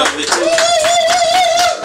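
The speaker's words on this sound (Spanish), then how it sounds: "Le damos un fuerte aplauso." A studio audience on a late-night comedy talk show breaks into brisk, loud applause. A sustained voice or whistle-like tone carries over the clapping for most of the short burst.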